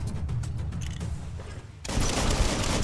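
Gunfire from enemies in the Biomutant action video game, a dense rolling burst of shots that swells loud and close in the second half after a busier, lower stretch.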